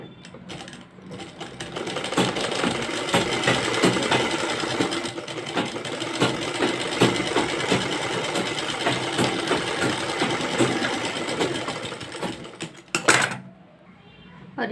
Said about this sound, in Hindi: और अब हम इस तरीके इसमें सिलाई लगा लेंगे इसकी क्रॉच में।